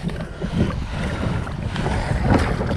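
Big waves and strong wind on Laguna Lake during a super typhoon, heard from a boat: a steady, loud rush of wind and churning water with bursts of splashing throughout.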